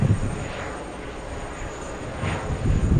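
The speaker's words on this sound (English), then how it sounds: "There's the Dreamliner slowing down on 4 right." A Boeing 787 Dreamliner airliner decelerates on runway 4 right at JFK, a steady broadband roar of engine noise with a rumbling low end that swells again near the end, heard from a distance without speech.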